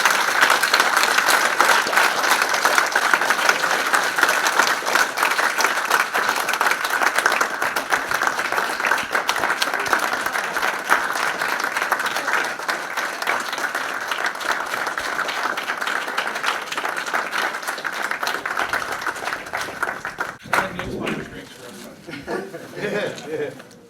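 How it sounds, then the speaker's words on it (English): A long, loud round of applause from a fan convention audience, continuous clapping for about twenty seconds before it drops off and a voice speaks over the last few claps. "So round of applause for him."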